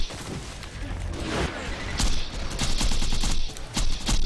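Dense rapid gunfire mixed with heavy grenade blasts during a Borderlands 2 boss fight against a giant snowman, loud and continuous with bursts of crackling shots throughout.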